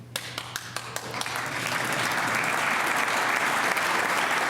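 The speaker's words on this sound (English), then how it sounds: "Governor Glendening with the early clap" An audience at a State of the State address breaks into applause: a few scattered early claps quickly swell into loud, sustained clapping from the crowd.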